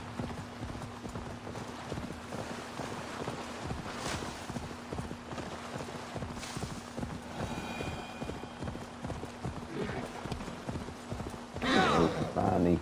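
A horse gallops in Assassin's Creed Valhalla, its hooves drumming in a rapid, steady rhythm with a brief whinny, game ambience underneath and a louder burst near the end.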